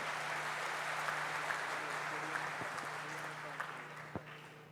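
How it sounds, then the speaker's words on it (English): An audience at a university public lecture applauds in a hall, a dense, steady wash of clapping held at moderate level throughout with a few sharper claps standing out. "So please give a big round of applause for her."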